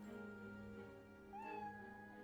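Cat meowing in the Professor Layton vs Phoenix Wright video game, a single short rising meow over quiet sustained game music, faint and brief.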